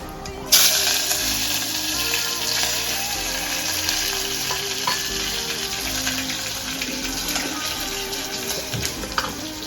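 Hot oil sizzles and crackles steadily in a pan in an Indian home kitchen, starting with a sharp burst as food hits the oil, then a continuous close, fairly loud frying hiss with small pops throughout.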